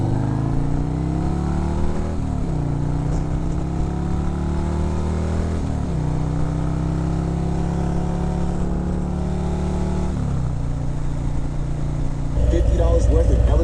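A motorcycle cruises along a road on a ride home in Ohio, its engine droning steadily with repeated gear shifts and rising revs, loud and close, with music and wind mixed in.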